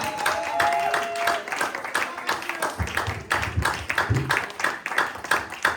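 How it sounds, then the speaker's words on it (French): A church congregation claps at a Sunday service, with bursts of distinct hand claps close to the recorder and some voices calling out among them. "Que l'église vous acclame"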